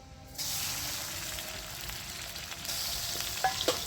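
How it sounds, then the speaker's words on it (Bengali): Shrimp frying lightly in mustard oil in a wok, a steady bright sizzle that starts abruptly and holds throughout, with a few small clinks of utensil stirring near the end; no voices. "এবার কড়ার মধ্যে একটু সরষের তেল দিয়ে দিচ্ছি, দিয়ে চিংড়ি মাছগুলো আমি হালকা করে ভেজে নেব"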